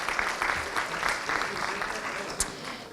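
An indoor audience at a 2017 career services co-op ceremony gives sustained applause, a dense steady patter of many hands clapping at moderate volume that tapers slightly toward the end.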